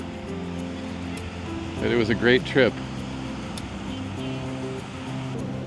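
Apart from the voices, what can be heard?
ocean waves on a windy beach at Praia da Luz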